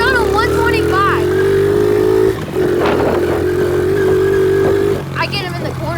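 A 125cc pit bike engine revving and droning during an outdoor game of tag. The rising, buzzing pitch is close and loud, dips briefly, then picks up again, with people talking and shouting over it.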